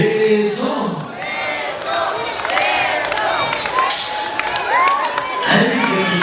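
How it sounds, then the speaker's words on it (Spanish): Wedding guests shout together for the couple to kiss, a loud crowd of mixed voices rising in cheering, whooping cries that keep going throughout. "A ver, todos vamos a gritarle. El beso."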